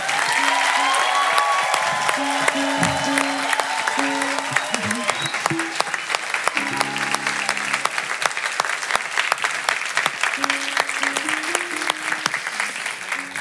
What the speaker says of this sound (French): Est-ce qu'on peut les applaudir plus fort que ça, s'il vous plaît?